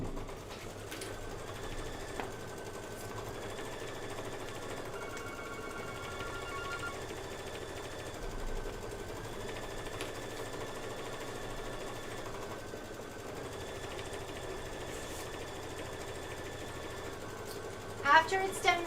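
An embroidery sewing machine stitches quilting lines on a fabric project, with a steady mechanical whirring hum that shifts pitch as the stitching changes and a few clicks near the end.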